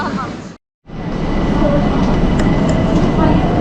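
A metro train rumbles loudly and continuously through a station in Tehran, with wheels clattering; the sound cuts out briefly near the start, then resumes.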